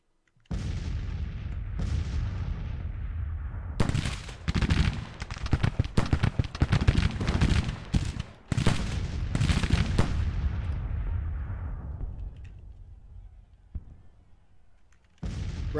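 Cannon and artillery fire in the Civil War strategy game Grand Tactician, booming volleys and crackling musketry in dense overlapping bursts, loud and near, continuing for several seconds before thinning out into a quieter tail.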